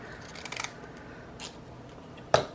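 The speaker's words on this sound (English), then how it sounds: "I'm going to have to use my scissors in a sec for this one" Scissors snip paper while making faux postage stamps, heard as a few light, crisp cuts close by in a quiet room. The cuts are spaced apart, and the last snip is the sharpest.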